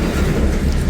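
Freight train cars rolling during switching, a loud, close, continuous low rumble of heavy wheels on rail.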